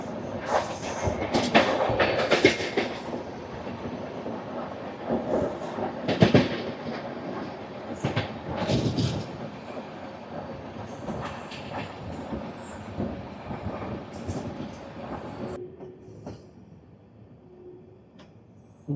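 Special passenger train from Chennai Egmore to Visakhapatnam running steadily over the rails, with continuous rumbling and rhythmic clickety-clack of wheels over joints, loud and close, easing toward the end.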